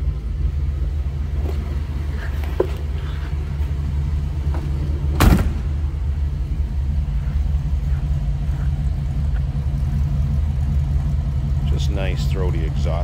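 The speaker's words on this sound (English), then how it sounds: "exhaust note, nothing over the top" A 1955 Ford Crown Victoria's engine runs at a steady idle, its low exhaust rumble constant throughout, with a brief louder burst midway and faint voices near the end.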